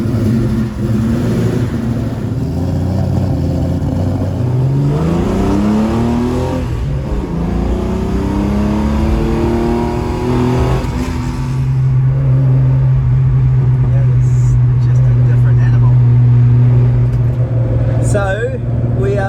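A car fitted with triple Weber carburettors cruises in fourth gear along a motorway at about 90 km/h, its engine droning steadily and loudly with a rising pull partway through, while a person talks over it.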